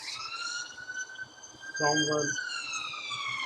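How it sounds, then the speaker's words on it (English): Emergency sirens wail outdoors, heard from indoors as a steady high-pitched tone that lingers at moderate distance, with a brief voice cutting in midway. "Sorry for the sirens."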